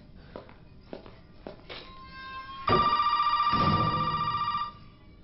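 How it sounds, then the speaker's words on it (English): In Resident Evil 7: Biohazard, a telephone rings loudly and steadily for about two seconds after a few quiet footsteps, sounding close with no voices. "We've had this phone call already"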